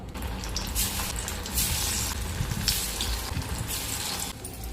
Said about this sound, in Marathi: आता आपण यांना तळायला घेणार आहोत। इथे तेल मी ऑलरेडी तापत ठेवलेलं।